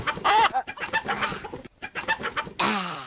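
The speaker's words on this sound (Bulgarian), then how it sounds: "Първо, трябва да открием гигантска кокошка." A hen clucking in a Bulgarian Disney Channel advert about a giant chicken and a huge Easter egg: a quick run of loud, close, choppy clucks and squawks with short gaps, ending in a longer squawk.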